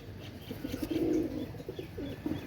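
Pakistani pigeons coo softly in a loft, a few low, rolling murmurs close by over a steady background hiss.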